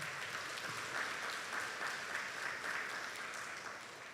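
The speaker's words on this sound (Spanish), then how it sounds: "Demos un fuerte aplauso al Señor" Steady, dense applause from a church congregation, sustained at an even level throughout and tapering slightly at the end, with no voices above it.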